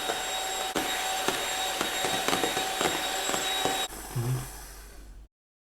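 Egg whites and yolks being whisked with sugar for a classic sponge cake, a steady electric-mixer whir running continuously at close range, then cutting out near the end with a brief low knock before silence.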